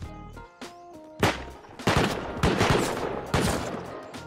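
Turrets fire in a video game: sharp, loud bursts of rapid gunfire that come in several separate volleys, each trailing off, with no talk over them.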